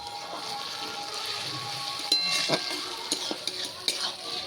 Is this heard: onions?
yes